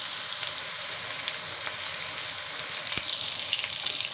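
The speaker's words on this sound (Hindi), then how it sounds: "इसे इसी तरह से एक तरफ गोल्डन होने तक फ्राई कर लेते हैं।" A pea-based snack fries in a pan until golden on one side, producing a soft, steady crackling sizzle that holds at an even level, with a single sharper tick near the end.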